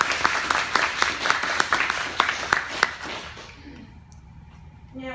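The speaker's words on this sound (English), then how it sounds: "she is worthy of a round of applause for her many accomplishments" An audience at a school board of education recognition meeting applauding, steady clapping with a few sharp individual claps standing out, fading away after a few seconds into a quiet room.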